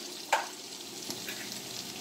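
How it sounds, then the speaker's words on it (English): Canned beans go into a pan of frying beef hot dogs: one short splash near the start, then a soft, steady sizzle that stays quiet throughout. "so now I'm ready to go ahead and pour my beans in"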